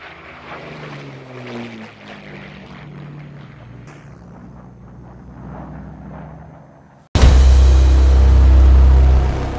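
A de Havilland Mosquito with twin Rolls-Royce Merlin engines bursts into a sudden, loud, full roar after several seconds of quieter rumbling, and the sound stays heavy and close to the end.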